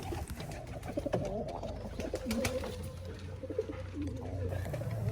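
Pigeons coo softly at their nest on a pigeon farm where two chicks have just hatched, low repeated throaty calls at moderate distance with faint background noise and no talking.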